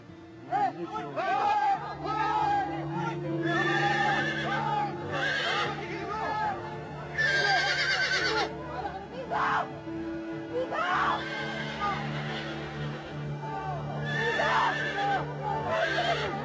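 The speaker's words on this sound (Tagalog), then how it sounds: "Lalo naman yung kabayo eh." Horses neigh and whinny loudly again and again, with shrill repeated calls that stand out over steady background noise, while people talk and shout nearby.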